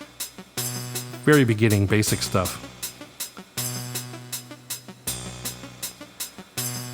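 A Eurorack modular synthesizer sequence pulses in a steady rhythm, with repeating plucked notes from a Castor and Pollux module over a bass line, and a voice briefly talks over it.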